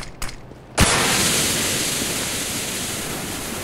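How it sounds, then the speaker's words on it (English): A smoke grenade in the shooter game CS:GO bursts open after a couple of sharp clicks, then lets out a loud, steady hiss that keeps going alone at close range. "Laying down smoke."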